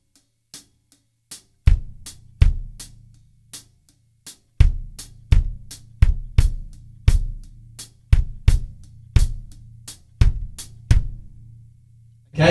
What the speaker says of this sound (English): So the hi-hat and bass drum together will sound like this.